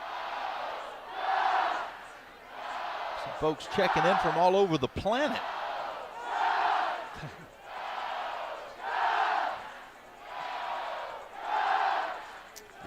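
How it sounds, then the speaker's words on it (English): Oregon softball fans at a Super Regional game against Liberty chant a steady back-and-forth "Go Ducks" between bleacher and home-plate sections, rising and falling in roughly one-second swells, while a radio announcer talks over the top. "The Oregon crowd coming to life. The fans in the bob in the center field bleachers are saying go, and the fans in the chairbacks behind home plate are saying Ducks."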